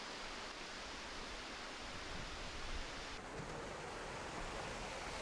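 Han River intake water rushing steadily at the Amsa Arisu water treatment plant as it enters the mixing basin, a continuous broadband roar of flowing water, loud and close, with no voices.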